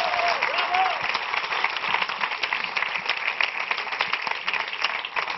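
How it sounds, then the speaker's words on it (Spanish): A television studio audience claps for Paco on a Spanish late-night show, a lively, sustained round of applause with scattered crowd noise and a faint voice underneath. "Fuerte el aplauso para Paco."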